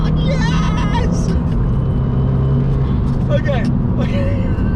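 A track-spec Abarth 595 Competizione with 226 brake horsepower, a custom map, custom air intake and sports cat drives on a road, its engine revving and shifting beneath steady road noise while someone talks over it.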